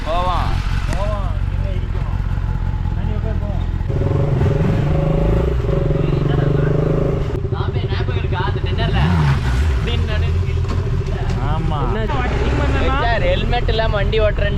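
A superbike rolls slowly at about 10 km/h, its engine a steady low rumble with shifting pitch throughout, while someone talks over it and other traffic noise passes nearby.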